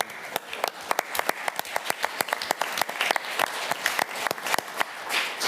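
Scattered applause at a city council meeting, a modest group clapping with distinct, individual sharp claps in an irregular rhythm, fairly quiet and close, continuing steadily across the room.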